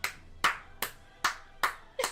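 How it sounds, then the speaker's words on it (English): Hands clapping slowly and steadily during a fantasy tabletop role-playing session, six sharp claps at an even pace, close and fairly loud with nobody speaking. "I know I'm just sitting here clapping"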